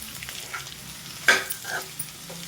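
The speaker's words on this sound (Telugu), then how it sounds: "ఇప్పుడు ఒకసారి కలుపుకోవాలి." Large pumpkin pieces fry in a pan while being stirred, a low sizzle broken by a sharper scraping stir near the middle and a few lighter clinks afterward, with no one speaking.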